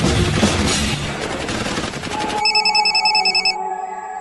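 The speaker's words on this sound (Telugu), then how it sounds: "అది ఇష్టం వచ్చినట్టు కాలుస్తున్నాడండి" Rapid automatic gunfire from the animated film Killer Bean Forever, a loud dense burst of shots that gives way to a ringing, alarm-like tone, with no talk over it.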